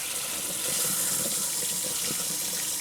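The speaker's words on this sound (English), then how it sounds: "let's see if we have water flowing in here" Water runs steadily from a tap inside a camper van fitted with a mains water inlet, an even close-up hiss and splash with no voices.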